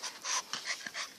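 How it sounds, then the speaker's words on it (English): A dog pants softly in quick, irregular breaths close by, faint and brief, with no talking. "So, if you hear breathing, that's my dog."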